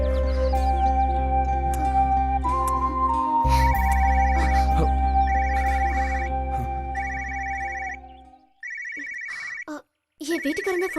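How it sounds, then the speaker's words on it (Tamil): A mobile phone ringtone plays a loud, repeating electronic melody over sustained low tones, then breaks off into short chirping bursts with brief gaps of silence. "என் வீட்டுக்காரன் தான் ஃபோன் பண்றா."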